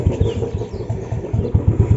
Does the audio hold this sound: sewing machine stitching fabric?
no